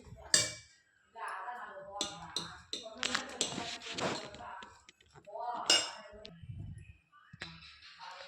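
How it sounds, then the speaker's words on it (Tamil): Wheat dosa batter being stirred with salt, baking soda and water in a kitchen bowl, giving clinks and taps of a utensil against the vessel between stretches of talk. "எல்லாம் சேர்த்து மிக்ஸ் பண்ணிக்கலாம்."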